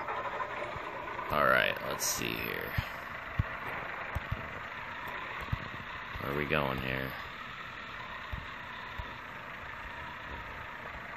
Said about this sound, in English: Ignition. Okay. Start your engine.